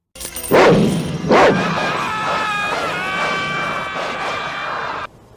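A dog in a scene from the 1990 film IT gives two sharp, loud barks close by, then a sustained tonal whine or whimper carries on until the sound cuts off abruptly.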